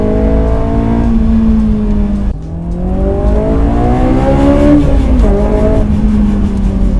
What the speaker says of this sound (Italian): Questi 9000 giri sembra che non finiscano mai.